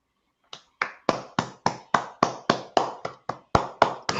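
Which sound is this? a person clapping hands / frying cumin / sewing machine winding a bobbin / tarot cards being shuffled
a person clapping hands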